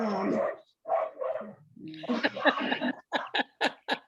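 A dog barks several times in quick, sharp bursts near the end, after a stretch of muffled voices and laughter.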